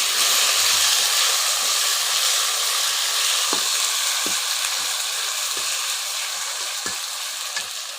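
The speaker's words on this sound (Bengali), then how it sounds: "আদা রসুনটা ভাজা ভাজা হচ্ছে" Ginger-garlic paste fries with browned onions in a pot on a clay stove, giving a loud, continuous hiss and sizzle. Sharp scrapes of stirring come every second or so, and no one speaks.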